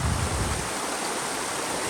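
A forest waterfall near Nirmal gives a steady, full rush of falling water, loud and continuous with a heavier low roar at the start, no voices heard.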